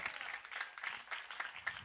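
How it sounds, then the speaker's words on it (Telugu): A church congregation at a revival gathering applauding, quiet and somewhat distant, a short burst of uneven clapping with no speech. "కొట్టండి గట్టిగా చప్పట్లో"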